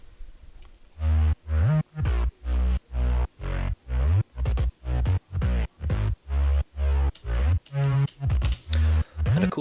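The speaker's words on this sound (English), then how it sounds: "Let's move on to the actual main bass of the track." A deep synth bass plays a pulsing, evenly chopped pattern of short notes, steady and rhythmic, with pitch slides toward the end.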